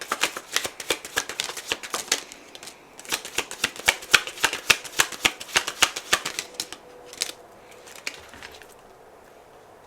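A deck of message cards for a card reading is shuffled up close: rapid crisp riffling and slapping of cards in quick bursts, tapering off quietly at the end, with no talk.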